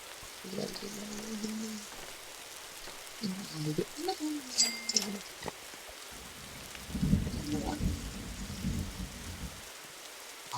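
Steady rain hiss from a Roblox survival game, with a deep thunder rumble swelling near the end; faint tonal game sounds and brief voice-like bits come and go over the downpour.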